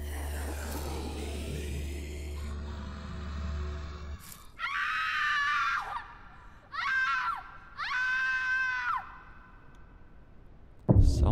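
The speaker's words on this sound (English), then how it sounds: "Someone screaming that way in the forest." Screams echo from somewhere in a dark forest in the indie horror game Silent Breath, several drawn-out wailing cries in separate bursts after a rumbling opening, moderately loud with no talking over them.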